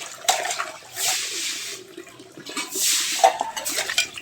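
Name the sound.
washing dishes, scrubbing with steel wool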